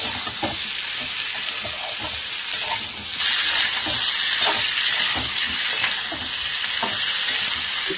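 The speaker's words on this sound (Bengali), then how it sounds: "আলুটাকে ভাজাটা একটু ভেজে নেবো।" Close, steady sizzle of potatoes and vegetables frying in a pan, with frequent scraping and clattering strokes as the mix is turned over, swelling slightly louder partway through.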